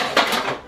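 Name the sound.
frying pan put in the sink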